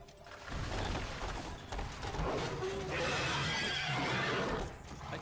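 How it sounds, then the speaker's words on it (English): A horse neighs and whinnies loudly in the Devil May Cry 3 video game, with clip-clop hooves and busy game sounds filling the whole stretch, no talking over it. "A chicken race with a horse"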